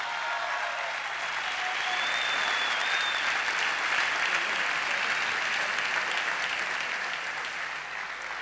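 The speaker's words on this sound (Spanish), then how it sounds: "Un aplauso grande." Large crowd at an Argentine primary election night rally for Cambiemos, 2015, applauding loudly and steadily for several seconds, with scattered cheers mixed into the dense clapping.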